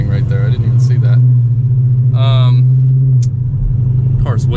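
The Hemi V8 of a Dodge Charger R/T with a tuned setup runs with a steady, loud, low engine drone and rumble throughout, while someone talks over it close by.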